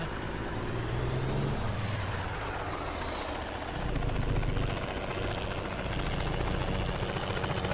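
Helicopter in American Truck Simulator, with a loud rotor drone and rumble overhead mixed with engine noise, swelling midway.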